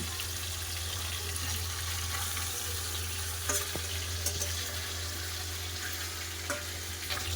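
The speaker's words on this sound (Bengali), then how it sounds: "এর পাশে মাছ ভাজা হচ্ছে" Steady hissing sizzle of fish frying in oil close by, with a low constant hum and a few faint clinks, no voices.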